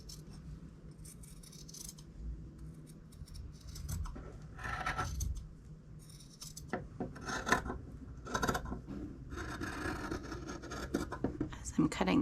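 Fabric shears snip through layered fabric in a run of crisp, close cuts that grow denser toward the end, mixed with rustling cloth and a voice talking throughout.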